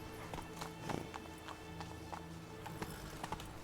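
Roach the horse gallops in The Witcher 3, with rhythmic clip-clopping hoofbeats repeating at a steady quick pace, heard fairly quietly over a low background drone.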